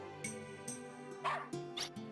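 A puppy in Wild Arms 2 gives several short, high yips and barks over a steady synthesized game tune.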